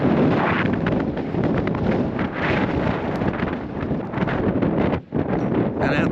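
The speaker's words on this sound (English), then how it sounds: "It is freezing. That wind is so cold." Cold wind roars across barren snowy mountain plains, buffeting the microphone in a loud, continuous rush with only one brief lull near the end.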